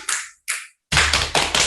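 Two isolated snaps are followed by a quick run of four sharp claps in even rhythm, recorded close and dry with no voices.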